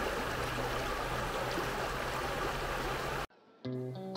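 A river flows steadily on a woodland walk in Loch Lomond and the Trossachs National Park, a dense even rushing of water for about three seconds before cutting off abruptly to a quieter scene with a brief tonal sound.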